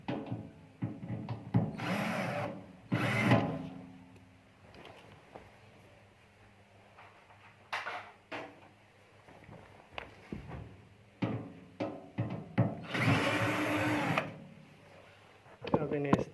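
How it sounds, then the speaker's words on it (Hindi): Screws are being unscrewed from the casing of a microwave oven that won't power on, with short scraping, whirring tool bursts at intervals, while a person talks over much of the work. "अब इन्हें इस तरह बारी बारी सारे स्क्रू खोल लेने।"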